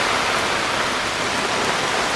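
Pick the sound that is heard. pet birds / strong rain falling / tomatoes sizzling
strong rain falling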